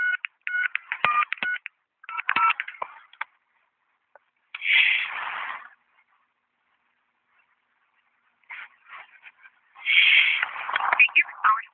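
A house phone dials with bursts of short electronic keypad tones, followed by brief ringing or line tones separated by silent gaps, all close and clear.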